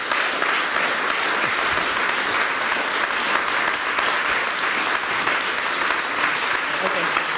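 A live audience applauds after a presentation at a magazine launch event, with sustained, dense clapping that stays steady and fairly loud throughout.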